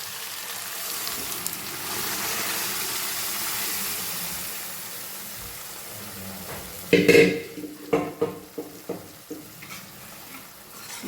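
Chickpeas and moong beans being stirred in a hot pan over a full flame, a steady sizzling hiss that gives way to a run of scraping, clattering spoon strokes near the end.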